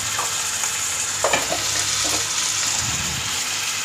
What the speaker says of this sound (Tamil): இதுவும் போட்டு நல்லா வதக்கிக்கோங்க.